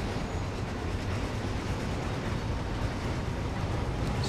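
A Class 66 diesel freight locomotive in the Train Sim World game powers up with a steady, loud, broadband rumbling drone that holds constant throughout, with no voices.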